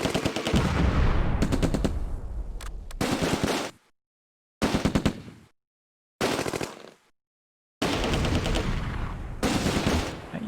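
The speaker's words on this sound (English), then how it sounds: "look at where our mortars are firing" Mortar and small-arms fire in the World War II tactics game Close Combat: A Bridge Too Far, loud rapid bursts of gunfire in long volleys broken by abrupt silent gaps, close and harsh with no voices.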